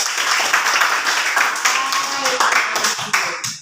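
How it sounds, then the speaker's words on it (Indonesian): A classroom of pupils claps together for one student, a dense and continuous patter of hand claps throughout, fairly loud and close, fading slightly at the end. "Tepuk tangan untuk kamu."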